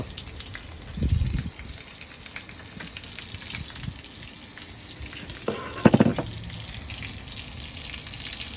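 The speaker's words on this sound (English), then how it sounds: "there you can see that's the fastest way to drain your water heater" Water gushes out of an RV water heater as it is drained, in two short loud bursts over a steady background hiss, with no talking.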